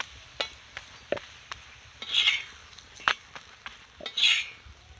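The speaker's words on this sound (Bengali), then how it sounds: "এইভাবে উল্টে পাল্টে ভাজতে হবে, ভালো করে উল্টে পাল্টে ভেজে নিতে হবে।" Food being fried and turned over in a pan with a little oil or ghee, giving a steady soft sizzle broken by several sharp scrapes and clinks of a spatula stirring against the pan, close up with no talking.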